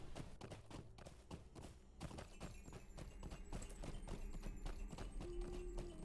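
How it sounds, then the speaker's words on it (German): Rhythmic clip-clop of horse hooves at a steady riding pace in the video game The Lord of the Rings Online, continuous and fairly close, with faint background ambience. "jetzt schwinge ich mich mal doch aufs Pferd und reite einfach mal runter"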